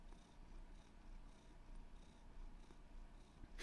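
Soft, close purring from an orange cat, a low rhythmic rumble pulsing with each breath, faint and alone, with a slight bump at the end.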